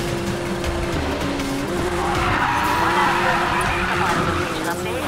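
Car tires skid and squeal in a long drift in Need for Speed Payback, a steady tire screech over loud engine roar while a voice talks over it.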